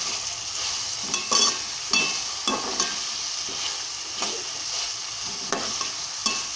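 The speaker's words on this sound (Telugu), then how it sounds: "చూడండి, ఉల్లిపాయలు మగ్గుతూ ఉన్నాయి కాస్త." Onions sautéing in oil in a pan for egg curry, a constant close hiss of frying with regular scraping strokes of a spoon stirring through them, moderately loud, with no voices.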